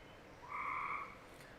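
A frog calls from beneath a hot tub cover, giving one steady, buzzing croak of about half a second. It sounds faint and somewhat distant, against quiet background hiss, with no voices.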